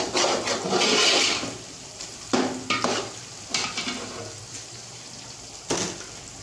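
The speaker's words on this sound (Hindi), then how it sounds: "अभी इसके अंदर हम चिकन ऐड करेंगे।" Raw chicken drops into a pot of light-brown fried onions for chicken haleem, giving a burst of sizzling and frying hiss with stirring clatters and a few sharp knocks, close and fairly loud.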